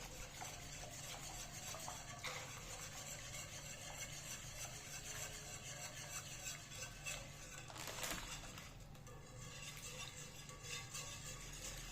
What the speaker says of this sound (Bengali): অনবরত নাড়তে হবে, নয়তো দলা পেকে যাবে।